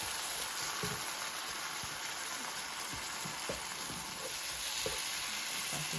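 Diced Roma tomatoes sauté in a pan for a spicy Cajun catfish courtbouillon, a steady bright sizzle with scattered soft stirring knocks, close and continuous with no voices.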